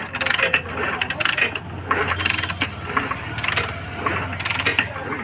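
Repeated metallic kick-starter strokes on a Hero HF Deluxe BS6 motorcycle with its spark plug removed, a ratcheting clatter over a steady low mechanical hum, several rhythmic pushes close by.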